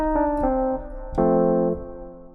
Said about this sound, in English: Let's paste these chords into a really cool piano which sounds like this.